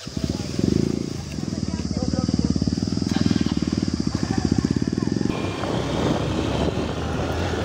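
A motorcycle engine and exhaust rumble loudly on a forest ride, with a fast, pulsing throb that holds steady for several seconds and then shifts to a rougher, lower drone near the end.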